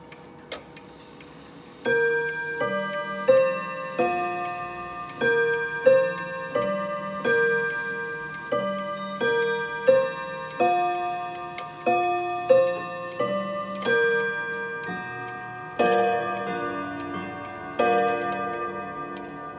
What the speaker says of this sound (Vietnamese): Vừa rồi là 2 giờ và đồng hồ điểm 2 tiếng chuông.